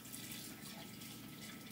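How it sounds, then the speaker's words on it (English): Hot water runs steadily from a tap onto a bar of homemade cannabis soap, a continuous close splashing stream with no voices. "I am going to get some hot water on it."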